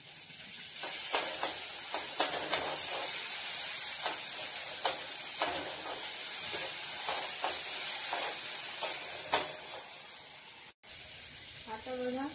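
Onion and tomato fry in a pan with a steady close sizzle and hiss, while a spoon stirs and taps against the pan in a regular rhythm of clicks and scrapes.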